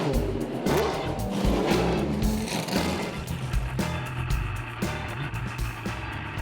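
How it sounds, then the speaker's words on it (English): Masters Endurance Legends prototype race cars, such as a Dallara Judd and a Peugeot 908, lapping Silverstone at dusk during the Silverstone Classic, with engines roaring past amid a steady mix of loud motor noise and sharp passing bursts. "Racing into the dusk on Saturday evening, the cars are the Masters Endurance Legends."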